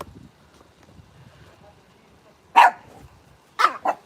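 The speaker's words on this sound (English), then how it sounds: "That's our dogs." Dogs bark outdoors at a distance, one short burst followed by a quick pair of barks about a second later, over faint background voices and ambient noise.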